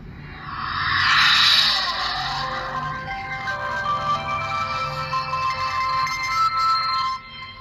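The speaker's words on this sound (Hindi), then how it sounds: "अब ये बैटरी मोबाइल फ़ोन में लगा लेते हैं और मोबाइल को ऑन करके मैं आपको चेक करवा देता हूँ" A Vgotel i102 feature phone powering on, playing a loud melodic startup tone that swells quickly and rings steadily for several seconds before cutting off.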